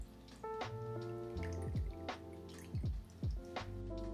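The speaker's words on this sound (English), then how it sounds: "Drain the water." Salted water drains from a bowl of smashed cucumbers, making quiet, irregular drips and trickles close by with small splashes.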